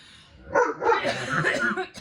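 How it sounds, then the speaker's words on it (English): A dog gives a few close, short barks and yips in quick succession. "I don't want to hear you barking."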